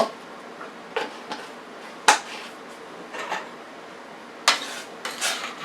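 A spoon stirs homemade fish chowder with parsley in a pot, giving sparse clinks and scrapes against the metal, a few sharp knocks spaced out over quiet background, close and alone.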